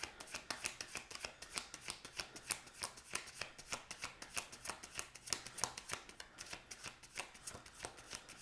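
Tarot cards are shuffled by hand in a quiet room, a fast and regular series of crisp riffling flicks repeating close up. No voice is heard.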